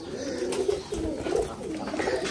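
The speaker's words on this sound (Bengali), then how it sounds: "দুইটাই ৯ খিলের কবুতর" Pigeons just released into a cage coo in low, rolling phrases, a steady murmur of overlapping calls close by with no talking.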